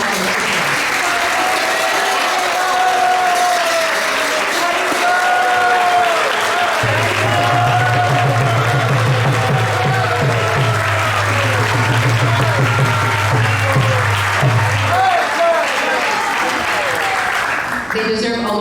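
A large audience at a Vyasa Puja celebration gives warm, sustained applause to welcoming devotees, thick continuous clapping with crowd murmur, a low steady hum joining midway, and voices talking over it.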